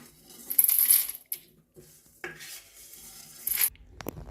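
Fried lentils and curry leaves are scraped out of a metal pan into a bowl, a few short, close metallic scrapes and clinks with quiet gaps between them.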